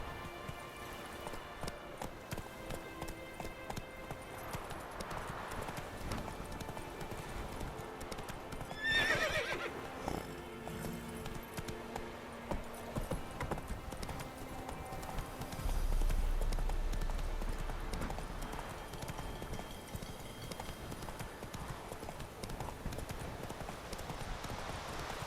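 Roach the horse in The Witcher 3: Wild Hunt clip-clops along at a steady trot with rhythmic close hoofbeats, a loud whinny near the middle and a low rumble later, and no talk over it.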